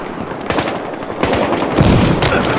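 Rapid bursts of automatic gunfire and single shots crack out loudly in a Battlefield Hardline firefight, the volleys irregular and dense, rising toward the end with heavy overlapping shots.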